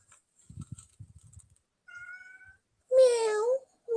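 A pet cat meows a couple of times indoors, the calls fairly close and clear after a few soft tapping sounds, with no talking over them.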